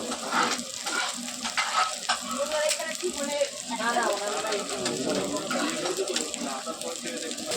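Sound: tadka spice mix being fried and stirred in a pan

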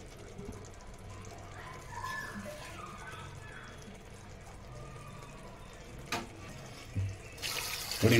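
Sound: water being poured into a pot

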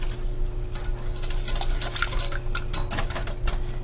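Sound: whisking soup ingredients in a pot

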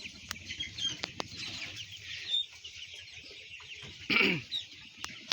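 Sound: chickens on a poultry farm

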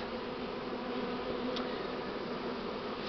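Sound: wasp near beehive

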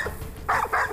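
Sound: dog barking while search dog finds something

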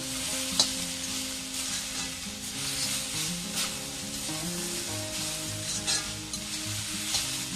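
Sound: chana saag (chickpea greens) frying and being stirred

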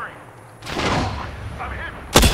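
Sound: gunfire from a weapon in the video game Apex Legends

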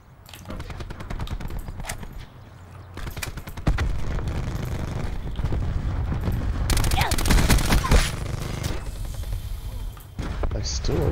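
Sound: gunfire in the video game Call of Duty Black Ops 4

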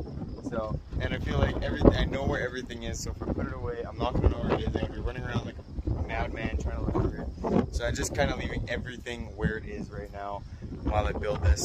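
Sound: strong wind blowing on microphone outdoors

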